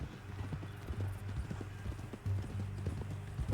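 Horse hooves clip-clop steadily in a Western video game, fairly quiet, with the low rumble of hoofbeats in an even walking rhythm under faint background ambience.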